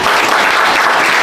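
A comedy show audience in France bursts into loud, dense applause, a brief close wall of clapping with no speech.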